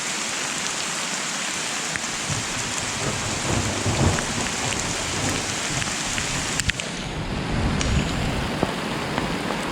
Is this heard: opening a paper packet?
no